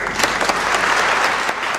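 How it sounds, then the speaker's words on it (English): A church congregation gives a round of applause at a school service, with steady hand-clapping from a gathered crowd for about two seconds, fairly close and even. "A round of applause."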